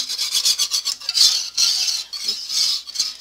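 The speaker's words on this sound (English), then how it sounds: "And then we whisk. And whisk and whisk and whisk." A whisk scrapes rapidly around a pan of white gravy, making rhythmic metallic rasping strokes in quick bursts, close and fairly loud, with no talking.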